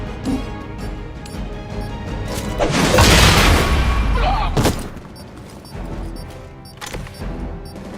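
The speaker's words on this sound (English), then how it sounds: "Another of the crates is armed to detonate." An armed crate detonates in Marvel's Midnight Sons, a loud booming blast that swells around the middle with crashing debris, then fades into lighter game effects and clatter.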